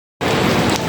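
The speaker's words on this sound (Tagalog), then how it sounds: "So nabuno tayo ng ulan dito sa Carmona." Heavy rain pours down in Carmona, a dense, steady hiss of drops striking surfaces that starts abruptly and stays loud and close, with no talking over it.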